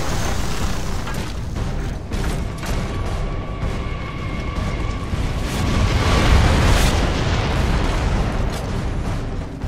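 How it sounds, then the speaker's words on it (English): Heavy mortar shelling in the video game Gears of War: a dense, continuous rumble of booms and blasts with a swell of louder impacts near the middle, plus faint tonal whines above. No clear speech. "The mortars have us pinned down!"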